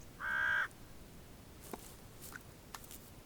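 A single loud crow caw rings out near a dead chamois carcass in the Italian Alps in late winter, followed by faint, scattered knocks and rustles in a quiet outdoor setting.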